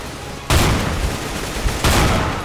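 Gunfire in the shooter game CS:GO: two loud, harsh bursts of shots crack out close by, the first sustained for over a second before a second volley follows.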